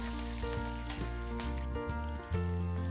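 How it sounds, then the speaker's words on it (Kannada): Curry leaves, mustard seeds and dried and green chillies fry in hot oil for mango chitranna, a close crackling sizzle with sharp pops and a low sustained tone underneath. "ಹಾಗೆಯೇ ಒಣಮೆಣಸಿನಕಾಯಿ, ಹಸಿಮೆಣಸಿನಕಾಯಿ ಹಾಕ್ಕೊಂಡು ಸ್ವಲ್ಪ ಚೆನ್ನಾಗಿ ಅದು ಹಸಿ ಹೋಗೋವರೆಗೂ ಫ್ರೈ ಮಾಡ್ಕೋಬೇಕಾಗತ್ತೆ."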